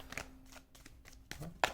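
Tarot cards being shuffled by hand, several short crisp riffling bursts and taps at close range, fairly quiet and without talk.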